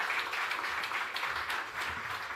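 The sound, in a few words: audience applause at a launch event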